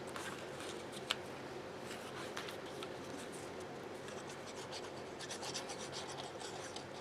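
A craft die piece for a large waterfall slider card is burnished by rubbing, making a steady, quiet, close rasping scrape that runs on without pause and without speech.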